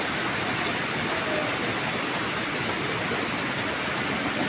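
Heavy rain from a storm pours down in a steady, dense wash of hiss that stays unbroken and fairly loud throughout.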